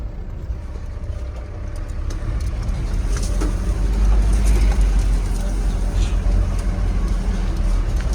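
A pickup truck climbing out of a sandy riverbed after nearly getting stuck, its engine rumbling steadily and growing louder as it pulls out, with people talking over the noise outdoors.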